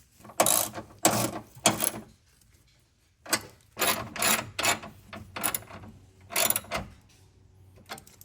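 Ratcheting wrench tightening 13 mm bolts on a car battery in a 2021-or-later GMC Yukon, Tahoe, Suburban or Escalade, heard as several close bursts of rapid ratchet clicking separated by short pauses, with no talking.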